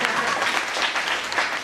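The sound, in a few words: audience clapping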